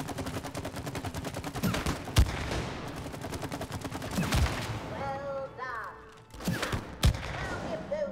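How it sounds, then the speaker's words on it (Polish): Rapid, steady gunfire rattles throughout, broken by a few heavy booming blasts in the video game It Takes Two, with a voice briefly heard under the noise. "Bardzo satysfakcjonujący jest dźwięk tego wybuchu."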